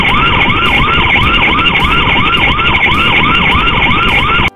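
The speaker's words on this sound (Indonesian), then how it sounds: "Kita bisa membunyikan sound bila ada pergerakan manusia di sekitar CCTV tersebut." V380 smart CCTV camera motion alarm, a loud electronic siren wailing in a fast repeating up-and-down sweep, steady throughout and cutting off abruptly at the end.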